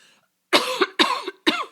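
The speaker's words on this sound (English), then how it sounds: "I'm sorry about my coughing." Three sharp coughs in quick succession, close and fairly loud, each a harsh burst separated by short pauses.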